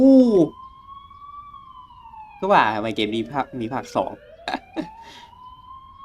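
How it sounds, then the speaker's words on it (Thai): An ambulance siren in the horror game The Coma: Recut sounds as a steady wailing tone that opens with a sharp sweep and runs through the clip beneath a speaking voice. "ทำไมถึงมีรถพยาบาลอยู่ที่นี่อีกแล้วล่ะ"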